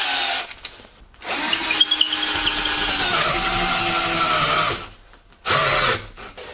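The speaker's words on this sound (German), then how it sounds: "14 mm und damit werden wir das reinbohren." A cordless drill bores a 14 mm hole into scrap wood through a reducer-fitted bit, a loud steady whine with grinding texture running for several seconds, pausing briefly, then starting again near the end with no talk.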